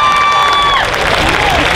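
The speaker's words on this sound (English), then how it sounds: "Give him a round of applause." Audience applause at a cosplay contest at a Japan festival in Orlando, a loud dense wash of clapping and crowd noise with a brief whistle-like tone near the start.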